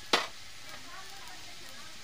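Charapona fish coated in turmeric fries in a pan for a Bengali-style dish, with one sharp burst of sizzle followed by a faint, steady hiss of hot oil.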